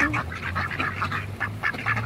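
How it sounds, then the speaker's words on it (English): Ducks quacking near the water, a run of close, nasal quacks repeating in uneven bursts over a low background hum. "Quack quack."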